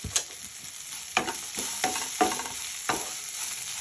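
Tamarind and ridge gourd chutney ingredients roasting in a pan on the stove, with soft sizzling and repeated scraping stir strokes of a spatula, close and fairly quiet.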